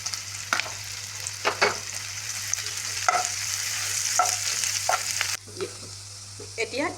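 Tomatoes fry with crushed ginger and garlic in a pan while a spoon stirs them. Constant close sizzling runs throughout, broken by repeated scraping strokes of the stirring.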